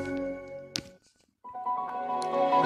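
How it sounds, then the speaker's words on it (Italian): Windows 95 system sound, a brief rich chime with several sustained tones, followed after a short silent gap by another swelling harmonic jingle, captured as on-screen audio during screen recording. "Suono di Windows 95."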